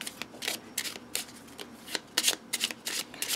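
A deck of tarot cards is shuffled up close and quietly, with a quick run of crisp riffling bursts in an uneven rhythm and no talking.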